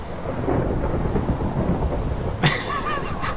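Thunder from a Minecraft storm rolls as a continuous deep rumble over steady rain, loud and close, with a brief sharper crackle near the end.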